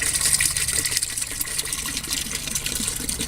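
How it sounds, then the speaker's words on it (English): Homebrew wort sloshes and splashes inside a carboy being shaken to aerate it, a continuous churning, gurgling wash of liquid close by. "Get a lot of splashing. Shake this thing around a little bit."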